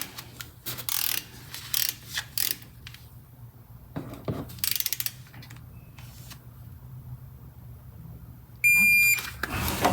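A ratchet loosens 14 mm brake caliper bolts on a 2019 Honda Odyssey, giving several short bursts of rapid clicking at close range, followed near the end by a brief whirring, mechanical sound.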